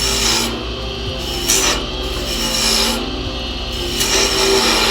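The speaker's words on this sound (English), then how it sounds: "This is a brand new gouge, so I'm hoping it'll actually cut right." A brand-new gouge cutting wood on a lathe, a loud continuous rasping scrape that pulses in repeated strokes as the tool passes over the spinning piece.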